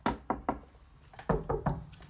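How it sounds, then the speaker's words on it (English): Knuckles rap on a real wood surface in two quick groups of three sharp, close knocks, with a short pause between the groups. "I can knock on that. That's real wood."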